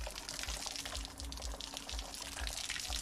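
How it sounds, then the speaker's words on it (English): Water from an outdoor foot-rinse tap at a beach in Luperon, Dominican Republic, runs in a steady, close splashing stream with small irregular spatters, continuous throughout with no talking. "So come in here, wash your feet, cut it on, do your thing."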